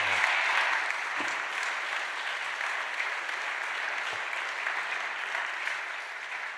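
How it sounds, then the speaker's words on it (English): Audience applause at the close of a panel discussion on reintegration: a continuous, even wash of many people clapping in a large room, moderately loud and slightly distant, with no talking. "Please join me in a big round of applause."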